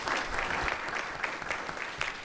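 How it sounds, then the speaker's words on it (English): Audience applause at a policy forum, a short burst of dense clapping from a crowd that stays fairly steady and moderately close. "Please give them a round of applause."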